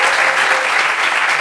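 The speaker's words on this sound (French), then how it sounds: "Applaudissements pour elle, s'il vous plaît." An audience at a gathering claps loudly and steadily in a dense, even burst of applause with no pauses.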